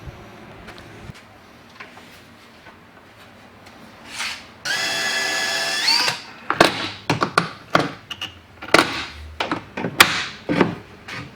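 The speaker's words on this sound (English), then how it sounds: "I'm now going to drill the holes for the hinges." A power drill bores hinge holes in a miter saw station cabinet, one sustained high whir lasting under two seconds, followed by a run of sharp knocks and clacks as the work is handled, close by with no talk.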